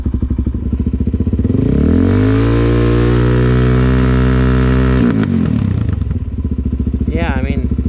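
A Suzuki DRZ400S single-cylinder engine with a carburetor surging problem idles with a loud, close, pulsing thump, then revs up and holds a smooth higher pitch before dropping back to idle, with a brief voice near the end.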